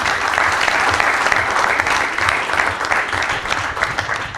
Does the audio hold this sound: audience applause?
yes